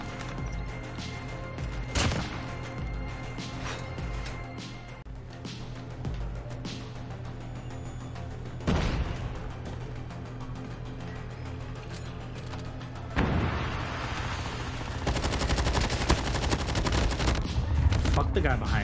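Gunfire in Call of Duty Mobile, single loud shots punctuating a mechanical background, then sustained rapid automatic bursts building up in the final seconds.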